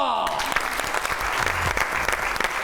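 An audience at a live comedy show applauds steadily, dense and continuous clapping filling the space from start to finish.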